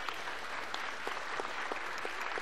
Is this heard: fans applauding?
yes